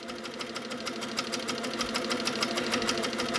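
A sewing machine stitching free-motion quilted feathers at a slower speed, a steady, close, rhythmic whirring hum of rapid needle strokes, with no voices.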